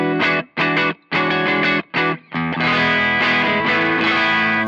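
Overdriven electric guitar through a ToneX boutique overdrive preset, with several short choppy chord stabs followed by a loud, sustained ringing chord, played alone with no talking.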